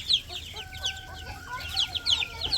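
Baby chickens cluck and peep softly on a farm, a busy scatter of small chirps and clucks at moderate distance, with a faint steady tone running underneath and no talk.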